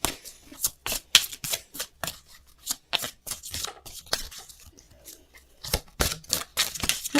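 Tarot cards being shuffled for a reading: a steady run of crisp riffling slaps and flutters, close and fairly loud, repeating in quick bursts throughout with no voice over them.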